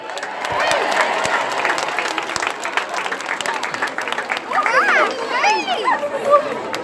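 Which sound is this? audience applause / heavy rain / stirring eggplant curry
audience applause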